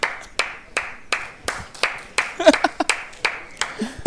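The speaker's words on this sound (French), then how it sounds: "Et on applaudit Thibaut Larouquette." Crowd in a stand at a French youth rugby match between SC Tulle and Peyrehorade claps in an even, repeated rhythm of sharp hand claps, fairly close and loud, with some voices mixed in.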